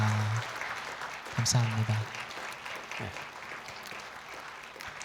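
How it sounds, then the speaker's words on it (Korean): Church congregation applauding during a gift and flower presentation at a retirement service, clapping under a man's spoken thanks and voices, moderately loud and steady. "우리 선물 전달될 때도 큰 박수 부탁드리겠습니다."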